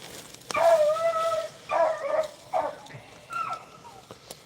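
A beagle nearby gives several drawn-out, howling bays in a short series, loud and close, with brief pauses between them, during a rabbit hunt.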